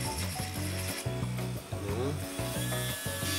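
Electric nail file with a grinding head working on a small figurine's sword, giving a steady motor whine with rhythmic ratcheting pulses close by, faint voice in the background.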